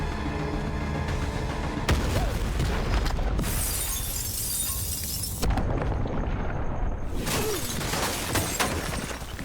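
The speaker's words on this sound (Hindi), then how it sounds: "लो भाई, धमाका हो गया।" Several loud blasts from an action film burst out one after another, each with a crash of shattering debris and a rumbling roar between them.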